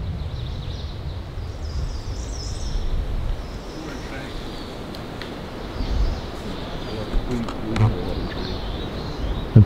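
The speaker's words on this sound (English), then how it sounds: "I just hear so many birds chirping within the forest." Many small birds chirp in a green volcanic island forest, a steady layer of faint high calls over low rumbling wind and background noise.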